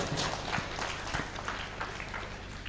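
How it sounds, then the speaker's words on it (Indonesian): An audience at an open exam for Islamic boarding school students claps in a steady patter of many hands, fairly close and moderately loud, filling the short moment without voices. "Tepuk tangan yang meriah untuk."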